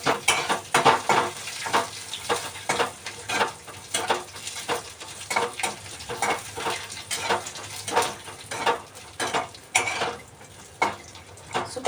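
Dry grated coconut roasting in a hot pan on low heat, with a soft sizzle under repeated scraping and stirring strokes of a spoon against the metal, in an uneven rhythm.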